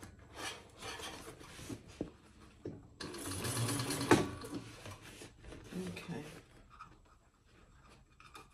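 Sewing machine stitching a tote bag, running in bursts with a long continuous run mid-clip, heard close under intermittent talk and handling rustle.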